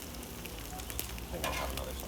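Eggs and beef breakfast sausage sizzle in a pan, a soft steady crackle with a few faint spatula scrapes, quiet and close with no talk.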